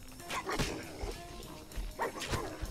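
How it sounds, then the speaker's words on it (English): Dogs in the game Fallout New Vegas bark in short, sharp bursts, about four or five yips spread over a few seconds, moderately close but fairly quiet in the mix. "There's gonna be an enemy up here. Dogs."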